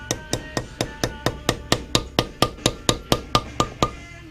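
Small hammer taps on a bowed part for a 1/64 scale Peterbilt model truck, flattening it: about fourteen sharp, evenly spaced metallic strikes in a steady quick rhythm, close and clear with no talking.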